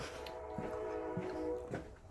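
A train passes at a distance, its horn sounding in sustained tonal blasts over a low rumble, with a few faint knocks close by.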